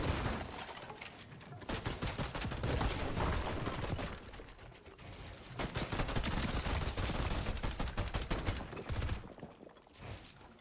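Gunfire in the video game Fortnite, dense bursts of rapid automatic shots in several long volleys separated by short gaps, loud and close, with mechanical clicks between the bursts.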